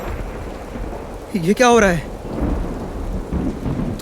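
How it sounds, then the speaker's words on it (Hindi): Thunder and heavy rain serve as a storm sound effect in a stage play, rumbling and hissing steadily throughout while a voice briefly speaks over it. "तूफान तो बढ़ता ही जा रहा है।"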